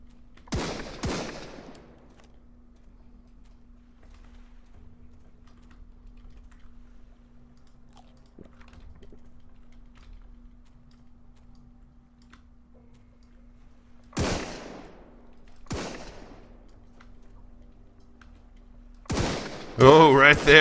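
Scattered gunshots in the survival video game Sunkenland: two sharp cracks at the start, a long near-silent gap, then two more shots and a final louder burst at the end.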